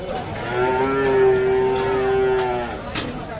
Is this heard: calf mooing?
yes